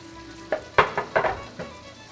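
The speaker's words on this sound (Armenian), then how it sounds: "Հավը տապակենք։ Տապակենք։" Pieces of chicken breast frying in a pan with onions, a soft sizzle punctuated by several sharp bursts as the meat is stirred and turned, close and clear with no voices.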